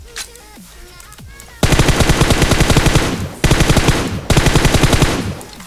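Loud automatic gunfire in the mobile battle royale game PUBG Mobile, with long rapid bursts of shots that break off briefly and then resume.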